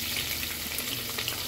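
Okra curry frying in a home kitchen pan gives a steady, close sizzle with a soft crackle running throughout, no voices.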